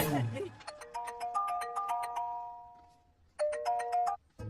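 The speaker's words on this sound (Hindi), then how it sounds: "अब उनके पास फोन आ रहा है।" A phone's electronic ringtone chimes in a bright repeating melody, pausing briefly before playing again, with a short bit of talking at the very start.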